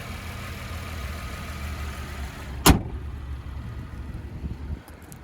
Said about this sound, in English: there's that V6 mostly tucked underneath that plastic cover.